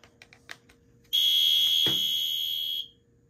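A unplugged fire alarm blares a steady high electronic tone for under two seconds, then cuts off, with faint clicks before it starts and a brief thump partway through.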